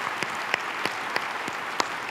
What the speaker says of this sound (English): we should all give a round of applause for Anthony